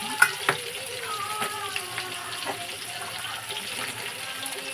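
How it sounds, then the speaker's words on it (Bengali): Fish fries in spattering oil, giving a steady crackling sizzle with a few sharper pops near the start, moderately quiet and continuous throughout. "মাছটা ভাজা হচ্ছে"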